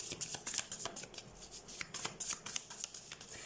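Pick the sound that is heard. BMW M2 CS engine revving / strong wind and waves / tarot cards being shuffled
tarot cards being shuffled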